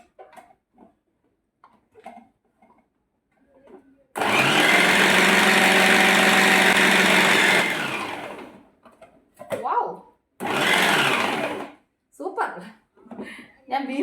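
A kitchen mixer grinder roars loudly for about four seconds chopping green beans, then gives a shorter second burst, with brief talk in the pauses.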